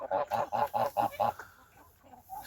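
Geese kept with ducks on a farm give a quick run of about five loud, close honks in steady rhythm, then fall quieter with a faint call at the end.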